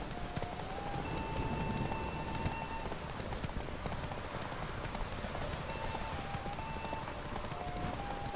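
Roach, a horse in The Witcher 3, gallops in steady rhythmic clip-clop hoofbeats during a race in stormy weather, with rain hiss and a faint game music line above the hooves.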